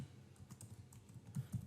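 Quiet keystrokes on a computer keyboard, a short burst of soft, uneven taps fairly close by with no talking.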